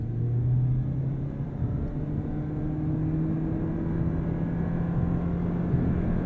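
A 2023 Toyota Prius accelerating hard from a standstill, heard from inside: a steady low engine drone with tones slowly rising in pitch, constant and moderately loud, no voices.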